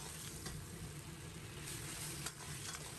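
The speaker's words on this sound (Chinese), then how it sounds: "继续开大火翻炒均匀，使芡汁快速成熟" Swimming crab stir-fried with scallion and ginger in a wok over high heat, thickened with a starch slurry, sizzles loudly and continuously while a utensil stirs with occasional scrapes and clinks, no voices.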